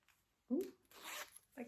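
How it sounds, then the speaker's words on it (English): A double-ended zipper on a knitted Noro cardigan gives a few short, quiet zips close by, with soft pauses between them. "I just love the versatility that the double-ended zipper gives"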